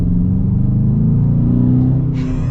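Strong engine roar of a 2022 Dodge Charger Daytona accelerating, a loud steady low rumble that builds throughout, with no talk over it.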